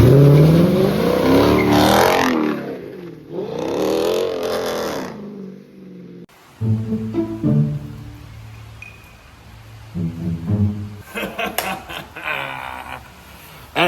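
A 400-horsepower Dodge Challenger R/T with a limited-slip differential revs loudly while sliding through corners on wet pavement, with surging engine bursts that drop away, then a quieter stretch of engine and road noise before another rev.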